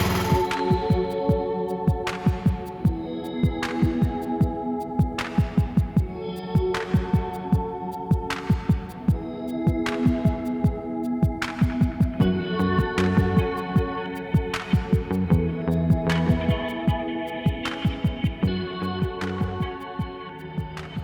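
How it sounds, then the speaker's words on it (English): A gas pressure washer blasts a vintage Dayton lawn tractor with an 11.5 hp Briggs engine. It gives a loud, steady throbbing engine drone with rapid rhythmic pulsing, and no one talks. "Let's do some power washing."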